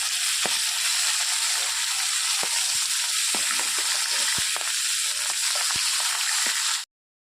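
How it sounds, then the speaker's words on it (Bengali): Fish pieces fry in oil in a pan, a dense, continuous close sizzle with scattered pops and occasional clicks of a utensil, steady throughout before cutting off abruptly at the end. "মাছ ভাজা কমপ্লিট"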